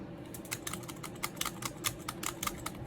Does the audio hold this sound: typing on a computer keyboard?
yes